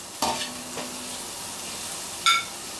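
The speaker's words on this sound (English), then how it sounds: "It's sizzling away." Ingredients for a vegetarian ackee and black-eyed bean dish frying in a pan, a steady soft sizzle with two brief clinks of a utensil stirring at the start and near the end.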